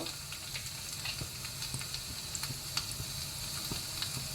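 Five garlic cloves frying in hot oil with a cut chili for a banana and dal curry, a steady close crackling sizzle with small popping spits throughout, no talking.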